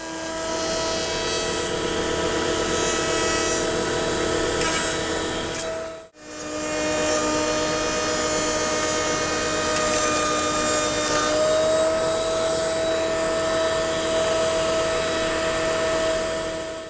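A loud, steady high-pitched router table whine runs continuously while routing white oak drawer faces, cutting out for a moment midway before spinning back up and continuing without pause.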